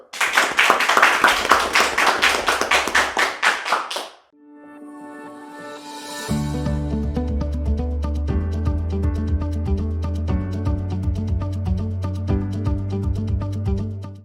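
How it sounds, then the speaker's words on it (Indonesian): A studio audience at a student talk show on character education claps for its guests in a loud, rhythmic burst for about four seconds, then stops abruptly as tonal music with a steady beat takes over. "Kita berikan tepuk tangan dulu"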